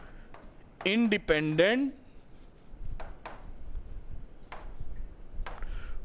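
Hand-writing strokes from a physics problem being solved, soft scratchy pen rubbing in short bursts through the second half, after a brief stretch of a man's Hindi speech; close and quiet.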